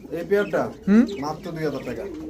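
An American Lakkha pigeon gives a couple of soft throaty coos at close range, mixed with someone talking over them.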